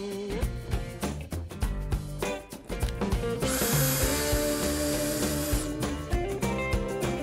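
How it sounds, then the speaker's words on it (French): A power screwdriver drives screws to fix Multizap 2 Neo supports onto roof timber framing, giving a loud, steady high whine for a few seconds amid clattering handling and busy workshop noise. "Il suffit simplement de visser les appuis Multizap 2 Neo sur la charpente en utilisant les vis et l'embout de vissage fourni dans le kit."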